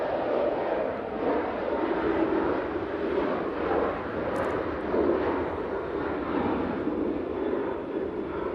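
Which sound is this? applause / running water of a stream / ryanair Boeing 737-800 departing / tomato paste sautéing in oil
ryanair Boeing 737-800 departing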